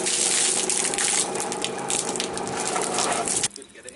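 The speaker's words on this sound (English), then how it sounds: "I'm flushing the engine through, outboard." Water from a hose gushes steadily into a bucket while a boat's salt-water-cooled outboard engine is flushed through, a loud continuous rush that cuts off sharply near the end.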